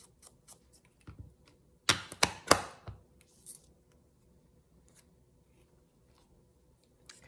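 Scissors trim paper for a handmade gothic witch journal, a cluster of three or four sharp close snips after a few faint taps, then near silence with occasional light rustles.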